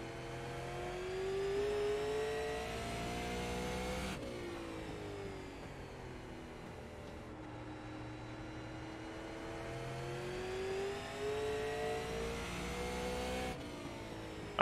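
A super late model race car engine in a racing video game revs and holds steady tones through shifts and throttle changes, a continuous mid-pitched whine at moderate volume with no talk.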